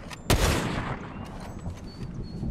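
Gunfire in a video game: one sharp loud shot opens, followed by a dense, steady spatter of shots and battle noise continuing in the background.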